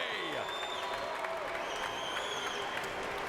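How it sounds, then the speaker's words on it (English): A crowd applauds and cheers after an MMA heavyweight fight at a Strikeforce event, a steady wash of clapping in a large arena under continuous commentary. "And Cormier's family and friends on their feet, clapping for his performance here tonight."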